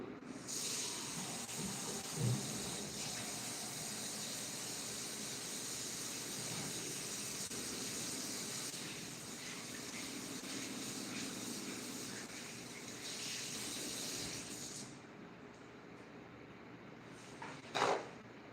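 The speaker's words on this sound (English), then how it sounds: "Let me wash my hands real quick, okay?" A tap runs in a steady broad hiss while hands are washed, the flow cutting off near the end, followed by a brief clatter.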